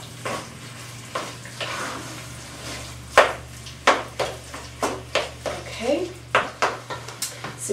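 A squash cup filling sizzles in a frying pan while a utensil stirs it, giving repeated scraping and clinking strokes in an uneven rhythm over a steady low hum.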